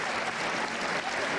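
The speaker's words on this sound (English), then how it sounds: "The Sefcu Arena crowd" Dense, steady applause from a basketball crowd fills the SEFCU Arena, loud and continuous for a moment at an Albany versus Maine game.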